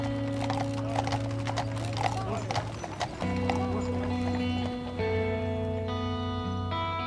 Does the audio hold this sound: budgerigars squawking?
no